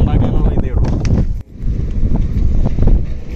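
Wind in the Thar desert buffets the microphone with a low, rumbling roar that surges in gusts, while someone talks over it.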